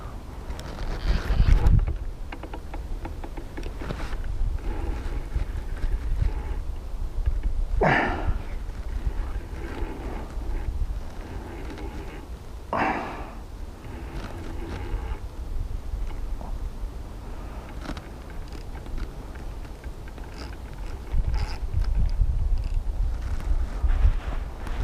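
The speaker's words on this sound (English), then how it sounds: "The wind's got up." Wind gusts buffet the microphone on open water while pike fishing in fog, a continuous low rushing roar with a few sharper bursts and stronger gusts near the start and end.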